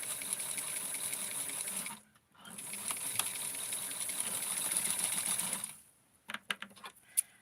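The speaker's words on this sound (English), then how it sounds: "I always want to make sure that I'm sewing from the inside part, and that's what I was doing right there." A sewing machine stitches a Barbie wedding dress in fast, steady whirring runs, pausing briefly near two seconds, then stopping before a few soft handling clicks and taps.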